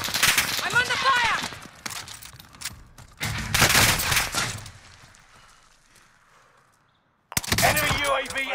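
Bursts of automatic gunfire in a Call of Duty: Modern Warfare match, loud and rapid with two dense volleys, a fading tail and a sudden final burst, with game voice callouts mixed in.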